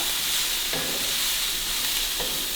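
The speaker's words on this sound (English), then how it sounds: "You want to cook the asparagus a little bit outside with the hot pan before you add the sauce" Asparagus tossed and stirred in a hot pan alongside steak gives a brief, even frying hiss, with a couple of soft scraping strokes from the utensil.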